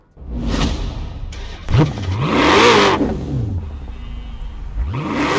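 A Koenigsegg CCGT engine in Forza Horizon 4 revs loudly and repeatedly, pitch sweeping up and down through gear shifts, with a rushing whoosh as it accelerates.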